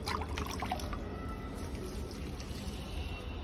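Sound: watering plants, pouring water

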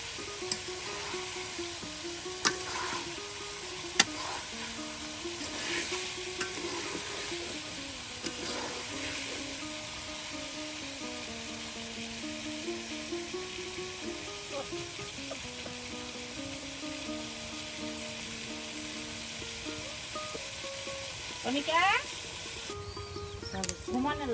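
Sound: chicken meat frying in a pan

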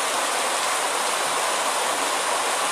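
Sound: rain falling in Macaúbas, Bahia

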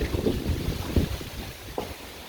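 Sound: gusty wind

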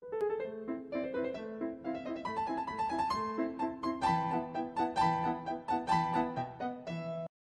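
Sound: opening of Mozart's Piano Sonata No. 11 used as melody input

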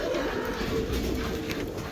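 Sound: pigeons cooing

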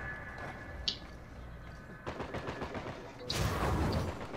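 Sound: gunfire in a video game team deathmatch

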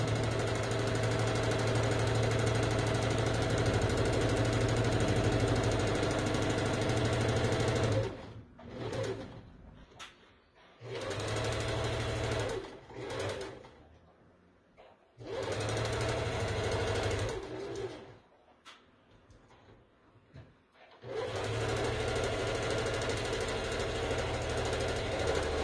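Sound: sewing machine stitching a straight seam

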